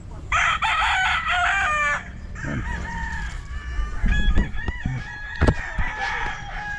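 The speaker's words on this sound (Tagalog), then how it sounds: "yung mga manok natin nandun sa baba" A rooster crows loudly up close, followed by chickens clucking and squawking in a busy, overlapping flurry.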